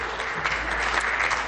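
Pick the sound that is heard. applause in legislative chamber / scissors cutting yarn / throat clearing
applause in legislative chamber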